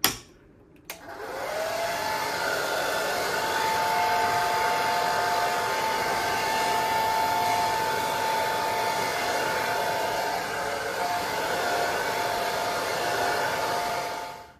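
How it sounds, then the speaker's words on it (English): A hotel room hair dryer in a Premier Inn clicks on and runs with a steady, loud whirring hum for several seconds before switching off. "Okay, so this is for powering the hair dryer."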